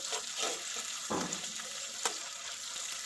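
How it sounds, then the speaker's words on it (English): Onions and tomato paste frying in a pan, a steady close sizzle with soft stirring scrapes and an occasional sharper pop or crackle. "I'm going to add in our tomato paste. So I'm just going to cook out the onions"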